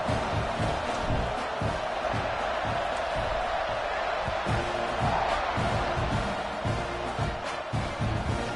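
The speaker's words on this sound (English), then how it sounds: "this crowd is buzzing after that last score" Crowd noise in the NCAA 26 college football video game, a steady buzzing stadium roar with scattered cheers and whoops after a touchdown, loud and continuous throughout.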